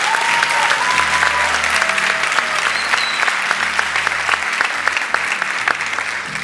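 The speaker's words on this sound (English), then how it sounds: "A round of applause for the Cloud Computing and Services graduates" Loud, steady audience clapping at the EIT Digital Academy graduation ceremony for the Cloud Computing and Services graduates, a dense continuous roar of many hands that holds level throughout over a faint low hum.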